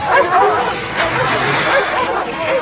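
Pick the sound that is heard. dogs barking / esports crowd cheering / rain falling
dogs barking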